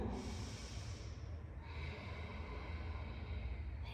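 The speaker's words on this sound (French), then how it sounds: "Si vous connaissez Ujjayi, respiration de l'océan" Ujjayi ocean breathing, a soft throaty rushing breath drawn close to the ear, one steady wave of airy hiss fading slightly midway, heard alone without talk.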